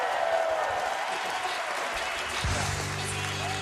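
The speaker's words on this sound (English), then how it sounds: "So let's please cheer on our winners for today," Steady applause and cheering from a crowd at a Splatoon 2 esports tournament for the winning team, broad and constant, with a voice talking over it near the end.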